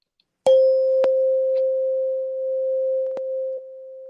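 A crystal singing bowl rings with one pure, steady tone that sustains for about three seconds after a strike, with a few light taps and clicks on top before it drops back.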